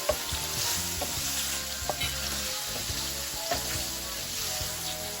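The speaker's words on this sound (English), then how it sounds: "I'm going to leave this to fry for about 2 minutes." Shrimp fry in a pan with vegetables, onions and a pinch of salt, a steady close sizzle running throughout while a utensil scrapes and stirs in sharp clinks every second or so.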